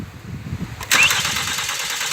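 A Kia Carens car engine cranks and catches about a second in, with a sharp burst of noise that settles into a steady, loud idle running nearby to the end.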